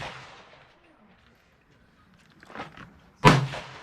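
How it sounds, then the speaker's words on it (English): A single sharp, loud gunshot from a handgun at a shooting range cracks out near the end, preceded by faint shuffling and a soft knock. "Finger on the trigger. Fire when ready."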